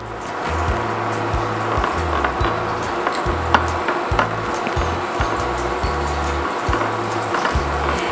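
Chicken pieces sizzling in a pan for Tuscan chicken, a steady crackling fry heard close and continuous, with occasional clinks from the pan and utensils.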